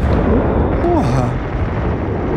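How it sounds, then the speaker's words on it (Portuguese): A grenade goes off in the Titanfall 2 multiplayer shooter, one broad, loud blast that blends with the steady in-game rumble and noise under a voice. "Granada do caralho."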